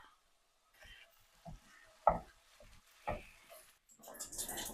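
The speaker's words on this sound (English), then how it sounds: "I'm putting in 1 pound of ground beef. Now we're just going to break this up and brown it." One pound of ground beef browning in hot oil in a skillet while it is broken up, with faint sizzling and intermittent scraping and stirring scuffs.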